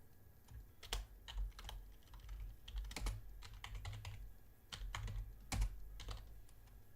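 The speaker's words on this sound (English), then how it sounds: "I'm typing out the comments." Rapid, irregular clicking of keys on a computer keyboard, with occasional louder keystrokes, steady and close over a low background hum.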